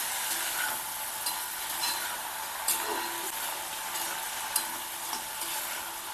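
Broad beans (chikkudukaya) fry over lowered heat in a home kitchen pan, giving a steady, even sizzle with occasional soft scrapes and clinks as they are stirred, and no voices.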